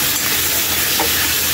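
Chopped vegetables, including squash, sizzle and hiss steadily in a hot pan while being stirred for a Filipino ginisa, a continuous close frying sound with faint scraping and no talk.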